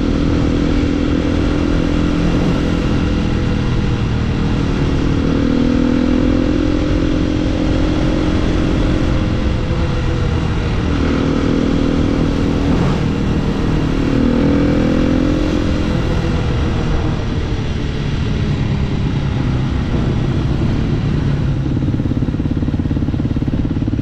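Loud motorcycle engine revving through an aftermarket exhaust, a continuous throaty drone with repeated rising and falling pulls, close to the listener and without talk.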